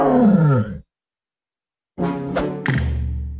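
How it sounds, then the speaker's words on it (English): A tiger gives two deep, growling roars nearby, separated by a moment of silence, the second ending in a heavy low thump. "tiger."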